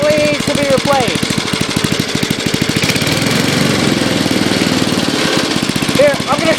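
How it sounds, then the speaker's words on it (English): A Snapper lawn mower with a faulty carburetor diaphragm runs rough and loud nearby, its engine chugging at a limited RPM with irregular pulsing, and a voice talks over it. "It's somewhat running. It only goes up to a certain RPM and then it cuts out."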